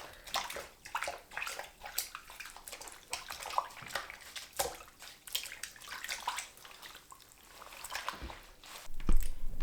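A knitted vest is swished and squeezed in a basin of soaking water, with irregular sloshing, dripping and splashing at close range and no talk.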